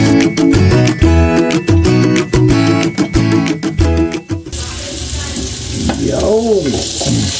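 Pork pieces sauté in a hot pan for pork adobo, with steady sizzling and stirring; loud rhythmic music plays over the first half, then the frying sound carries on under a few brief vocal tones.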